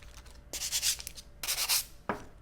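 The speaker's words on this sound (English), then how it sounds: "make sure all 8 corner of the file is filed off so you don't cut yourself" Abrasive nail file being filed across its own corners to round them off, one 100/180 grit file rubbed against another; two close scratchy strokes followed by a brief sharp scrape, with no talking.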